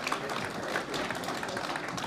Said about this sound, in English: So a big round of applause now for the young set dancers.